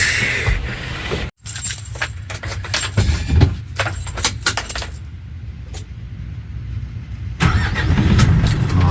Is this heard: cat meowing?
no